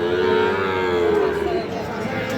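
A Sahiwal bull calf at a cattle market lets out a long, loud moo close by, the low drawn-out call fading toward the end.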